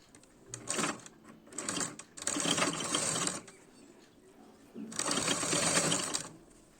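A sewing machine stitches lace onto the back of a blouse in four separate bursts of rapid, whirring needle action. The bursts lengthen as they go, with short quiet pauses between them.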